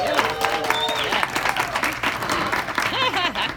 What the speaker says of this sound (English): So big round of applause for the Tucson Comedy Crawl.